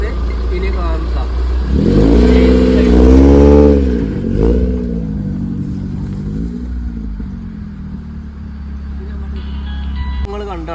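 A Maruti Gypsy engine revs hard and climbs in pitch as the vehicle crawls over an obstacle in four-wheel drive, then settles into a steadier, lower drone that fades over the last seconds. No one speaks.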